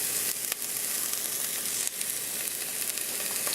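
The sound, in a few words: vegetables sizzling as they are sauteed in a pan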